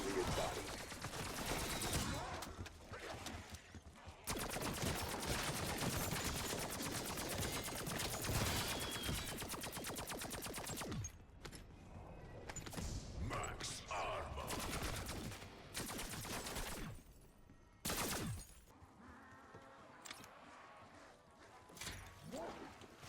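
A pack-a-punched nail gun fires in Black Ops zombies mode, a dense, continuous rattle of rapid shots with crashes and game effects, and a voice talks over parts of it.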